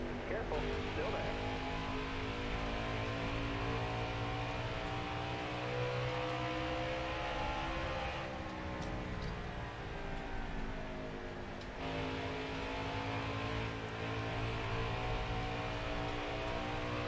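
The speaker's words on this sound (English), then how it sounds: "I'm driving the truck as hard as I feel like I can drive it" Race truck engine from the NASCAR Heat 4 game at Iowa, howling steadily at high revs with rising and falling pitch as the throttle works, loud and continuous with other trucks droning close by.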